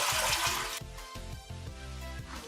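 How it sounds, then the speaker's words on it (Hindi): Roughly a litre of water pours into a cooking pot for haleem, a splashing rush at first that settles into a softer trickle and gurgle, close by with no talk. "अब हम यहाँ पे एक पतीली लेंगे, इसमें डाल देते हैं 1 लीटर के करीब पानी"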